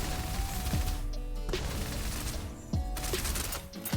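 Rapid gunfire from Snowbreak: Containment Zone, shots looped between dodges: fairly quiet, dense crackling bursts with sharp metallic clicks and thuds repeating roughly every second or so, steady throughout with no talking.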